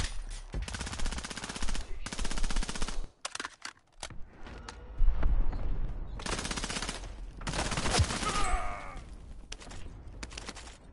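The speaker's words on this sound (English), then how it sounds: "I'm taking fire!" Call of Duty gunfire: repeated loud bursts of rapid automatic fire broken by short pauses, with single shots and sharp impacts mixed in, close and harsh.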